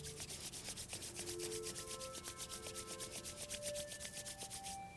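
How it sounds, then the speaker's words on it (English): Palms rubbed briskly together during a yoga class, a rapid even swishing friction close by, with a faint tone humming underneath. "then you're supposed to rub your palms together again."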